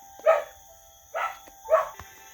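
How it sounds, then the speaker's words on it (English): A dog barks three times in short separate bursts, fairly close and clear against a quiet indoor background with no talk. "It barks a lot. But I like her still. But she barks so much."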